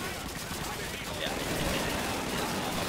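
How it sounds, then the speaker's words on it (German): Machine gun fire in the Call of Duty 2 World War II shooter rattles in dense, continuous bursts that fill the whole stretch at steady loudness, with battle noise blending underneath. "Maschinengewehr."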